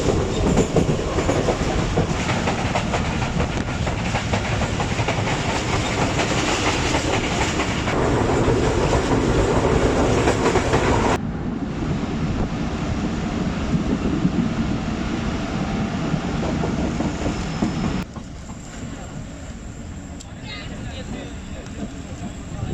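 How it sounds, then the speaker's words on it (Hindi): The 39 Up Jaffar Express on the Multan–Lahore run rolls at speed through a station at night, a sustained loud rumble and clickety-clack of rail wagons that shifts in tone as it goes, with voices talking over it. "जहाँ से जाफर एक्सप्रेस अच्छी स्पीड से पास हुई है आज"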